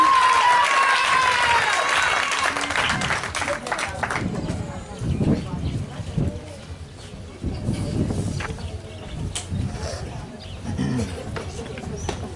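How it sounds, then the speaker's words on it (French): A church congregation applauds and cheers. A broad wash of clapping and crowd noise continues through the whole stretch, with voices mixed in. "On acclame le Seigneur pour encourager notre Maman Lydie."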